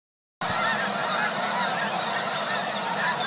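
Dense chorus of geese honking continuously at Anahuac National Wildlife Refuge after dark, a loud, steady wall of overlapping calls from a large flock.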